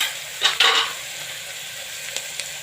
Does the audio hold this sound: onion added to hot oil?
yes